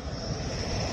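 A Rafale fighter jet arriving at Ambala Airbase roars loudly and continuously, its dense engine noise filling the whole moment without any talk.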